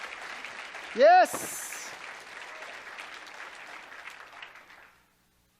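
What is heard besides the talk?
congregation applause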